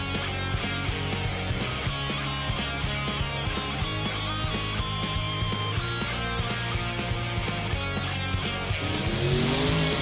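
High Flying, a monster truck at a 2021 Denver monster truck event, revs its engine continuously and loudly beneath a dense, steady wash of arena music and crowd noise.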